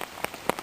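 Rain on a campsite cooking tarp in the Olympic Peninsula's Hoh Rainforest, heard as a few scattered, close drops tapping the taut fabric over a quiet, hushed background.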